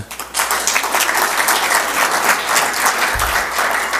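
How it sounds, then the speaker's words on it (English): An audience at a Rotary Club meeting applauds steadily and loudly for about four seconds, a dense wash of many hands clapping without a break. "you guys also de de deserve a round of applause for that"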